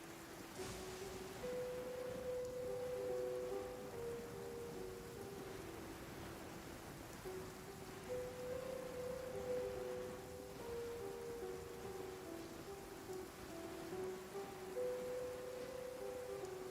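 Rain falling in the video game Genshin Impact, a soft, even patter that runs throughout, heard quietly beneath sustained game music tones.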